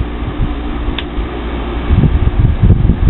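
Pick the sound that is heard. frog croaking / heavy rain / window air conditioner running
window air conditioner running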